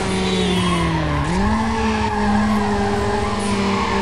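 A Honda Civic racing in the game Need for Speed Underground, a loud continuous engine whine that dips briefly at a gear shift and climbs again, with a hiss of tire noise and no talk.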